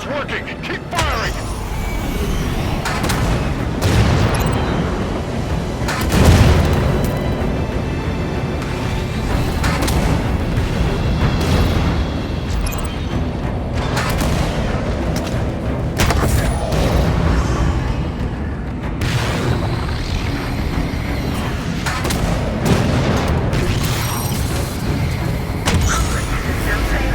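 Heavy gunfire and explosive booms from the Halo 5: Guardians video game, in a dense, continuous barrage that never lets up, with loud blasts and mechanical clatter, and voices shouting under the din.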